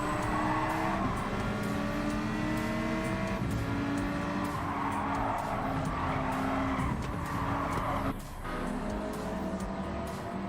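A race car in the video game Gran Turismo 7, played in PSVR2, slides with its tyres squealing. A loud, steady engine roar carries the long screech of sliding rubber throughout, dipping briefly near the end.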